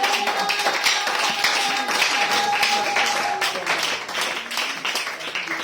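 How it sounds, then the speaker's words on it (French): An audience clapping in a hall, a dense patter of applause that fades slightly toward the end, with a few louder individual claps near the front. "Et il mérite une acclamation sur cette vie."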